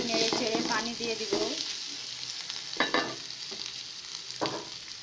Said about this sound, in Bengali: এখন আমি এইগুলো দিয়ে ভালোভাবে ভেজে নিব।